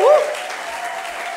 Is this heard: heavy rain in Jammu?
no